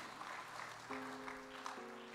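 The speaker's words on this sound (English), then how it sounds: "Let's clap hands for them." Church congregation clapping hands together for special singers, a steady wash of applause with a sustained organ or keyboard tone entering partway through.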